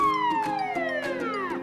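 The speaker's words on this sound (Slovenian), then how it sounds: "Pridrvijo gasilska vozila, sirene tulijo in luči zavijajo." Fire engine sirens wail in a long descending sweep, loud and close, with a steady tone gliding downward and faint rhythmic knocks beneath, no voices.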